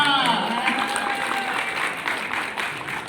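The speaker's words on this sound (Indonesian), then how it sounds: "Tepuk tangan dulu buat Ibu Lista" A crowd at an event for small businesses claps for Ibu Lista, a brief burst of applause that fades gradually while a voice speaks over it.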